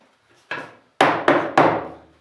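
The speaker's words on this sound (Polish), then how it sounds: "Nabijamy, bo młoteczkiem takim gumowym" Four sharp knocks of a rubber mallet on wooden boards of a single-walled beehive body, one lighter tap followed by three solid strikes in quick succession, close and fairly loud with no talking.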